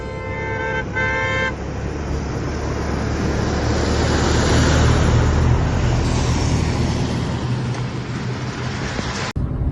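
A car travels on the Samruddhi expressway, its steady road and wind roar filling the cabin. A horn toots at the start, and a short thump comes near the end.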